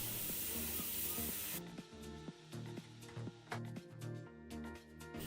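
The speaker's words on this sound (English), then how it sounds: "air pump turn on and air valve open high pressure air assist" High-pressure air-assist pump on a NEJE Max 4 laser engraver and cutter blowing through its tube, a strong hiss that stops abruptly, followed by quieter tapping and clicking from the machine.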